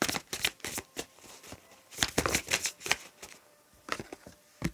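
Tarot cards are shuffled up close in a quick, uneven run of riffling bursts with short pauses between, fairly soft and with no talking.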